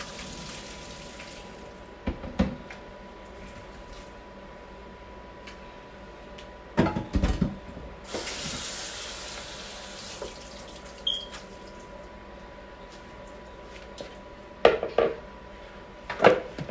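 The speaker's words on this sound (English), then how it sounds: "So I'm going to pour them out and drain them," Boiled Yukon Gold potatoes are poured from a pot and drained in a kitchen sink: metal pot clanks and knocks, a brief rushing gush of water, then more scattered clatters of dishes, all without speech.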